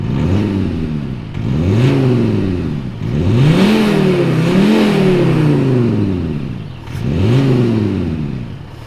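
A Skoda diesel SUV with synthetic engine sound piped into the cabin, repeated rising and falling whining sweeps like a turbo spooling through revs and gear changes, fairly close and with no talking.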